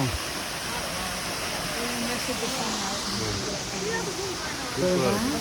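Stream water flows steadily among tall green trees, a broad continuous rush that fills the scene evenly from start to end, with a slight swell near the close.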